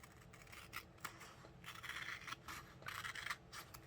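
Scissors made for sticky material cutting through sticky paper, giving close, soft snipping and rasping strokes in an uneven rhythm, with no voices.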